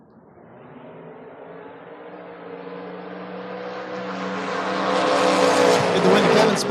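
Nova and Mustang drag race cars launch in a drag racing event, engines building from a low rumble to a loud, rising high-revving roar as they pull away, with a voice talking faintly underneath.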